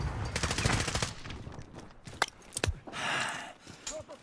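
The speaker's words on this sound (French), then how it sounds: "On me tire dessus." Gunfire in Call of Duty Modern Warfare, including a FAMAS rifle: rapid bursts of automatic fire, then sharp isolated shots and a longer rattling burst, loud and close, with brief game voice chatter.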